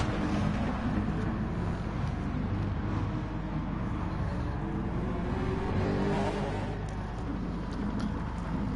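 Several touring car engines roar together in a BTCC sim race at Mount Panorama, a steady dense drone that swells and recedes as cars battle through the corners, with faint voices underneath.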